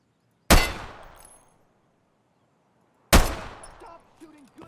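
Two loud gunshots in Escape From Tarkov, each a sharp crack with a long echoing tail, about two and a half seconds apart, the second followed by faint tonal game sounds.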